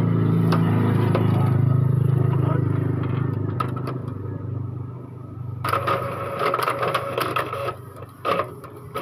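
An Epson L3110 inkjet printer, recently repaired after its printhead got stuck and moved too fast, runs off a photocopy with a steady close mechanical whir, then rhythmic clicks and clatters as the carriage and paper feed move.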